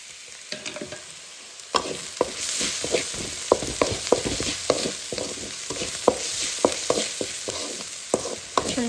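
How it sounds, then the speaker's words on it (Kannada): Cumin seeds frying in hot oil: a steady sizzle with repeated sharp pops and crackles that start after a short quieter moment and continue close up, no voices. "ಒಂದು 1/4 ಟೀ ಸ್ಪೂನಷ್ಟು ಜೀರಿಗೆ ಹಾಕಿ ಫ್ರೈ ಮಾಡ್ಕೊತಾ ಇದ್ದೀನಿ."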